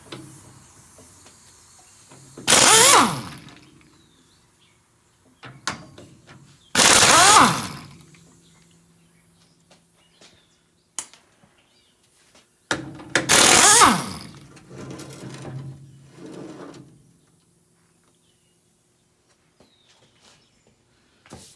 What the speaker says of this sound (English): next I'm going to take off this crazy center steering assembly here